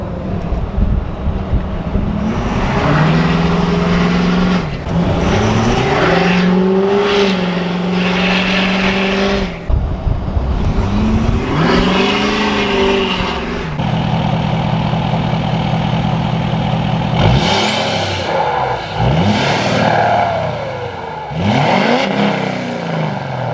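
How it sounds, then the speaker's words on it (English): A truck engine idles and then revs up hard several times, rising pitch climbing and falling back, with loud close bursts separated by brief lulls and a couple of sharp air-release hisses. "so you guys can enjoy some sound clips of the truck"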